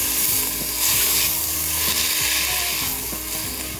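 Green onion and celery frying in a pan while being stirred, a steady loud sizzle with scraping and clinking of the utensil against the pan throughout, no voices.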